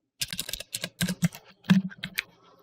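Quick bursts of keystrokes on a computer keyboard while entering a word into an Excel spreadsheet, close and crisp, in irregular clusters with short pauses and no talking.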